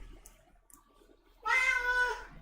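A single loud cat meow close by, following a few quiet clicks and soft background noise.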